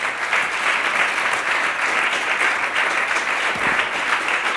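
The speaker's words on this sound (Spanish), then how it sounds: "Dele un aplauso al Señor." A church congregation applauds together, a dense, steady roar of clapping that stays loud and even from start to finish with no voices breaking through.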